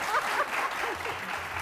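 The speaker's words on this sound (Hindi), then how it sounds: "अब तो ताली बजा दें।" Studio audience applause on a morning TV show, a brief, dense patter of many hands clapping at moderate volume with faint voices underneath.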